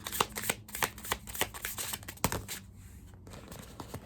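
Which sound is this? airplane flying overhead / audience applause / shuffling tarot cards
shuffling tarot cards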